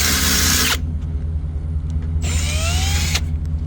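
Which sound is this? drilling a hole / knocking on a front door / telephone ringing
drilling a hole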